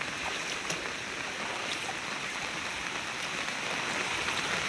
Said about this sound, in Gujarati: હવે જો પાછો અત્યારે વરસાદ વધવામાં જ છે